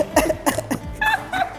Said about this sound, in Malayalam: വീണ്ടും അതേ ചുമ.